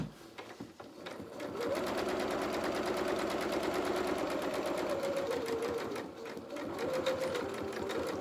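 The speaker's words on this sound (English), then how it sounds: "sewing down towards that red pin." Sewing machine stitching fabric for a dressing gown, a steady close mechanical whir with rapid needle ticking that runs continuously after a brief start, with faint speech early on.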